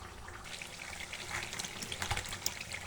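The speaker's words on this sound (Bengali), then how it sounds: "এখন আলু আর রসুন দিয়ে দিলাম।" Potatoes and garlic cloves go into a pan of layer-hen chicken curry, a steady frying sizzle with soft wet stirring and clinking, close and moderately quiet throughout.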